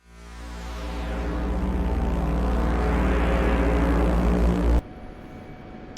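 An F-16 Viper Block 50 jet in a flight simulator game, a loud steady engine roar that swells over several seconds and then cuts sharply to a quieter hum, with no one speaking.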